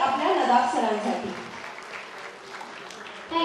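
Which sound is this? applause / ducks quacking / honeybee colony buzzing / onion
applause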